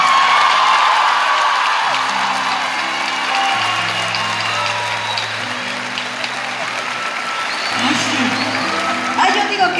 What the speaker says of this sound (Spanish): Yo te aplaudo.